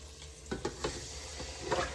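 Chicken pieces dropped into a pan of frying onions, a handful of soft thuds and scrapes against a continuous low sizzle, close but fairly quiet.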